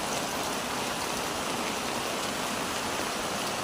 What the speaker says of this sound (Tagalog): baha na din dito sa amin sa bukid.